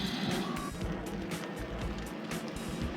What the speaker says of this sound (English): So the car can actually be summoned by the app on your phone